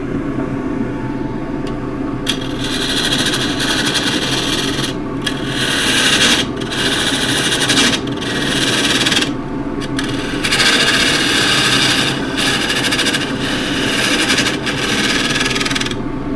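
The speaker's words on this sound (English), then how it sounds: "start off with a 1/2 inch spindle gouge" A wood lathe turns a chunky tripod dish under a 1/2 inch spindle gouge, cutting dusty wood without shavings. The steady, close scraping and rasping runs continuously over a low motor hum, broken by brief pauses.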